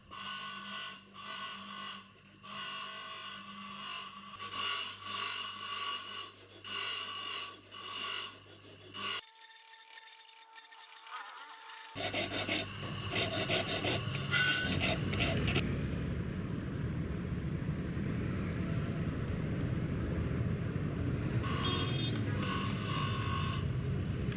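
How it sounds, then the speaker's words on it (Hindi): Die-cast aluminum hawk parts are rubbed and smoothed, producing a rasping, filing scrape in repeated strokes. A brief quieter break is followed by continuous, louder abrasive rubbing. "अब इन हिस्सों की सतहों को रगड़कर स्मूथ किया जा रहा है।"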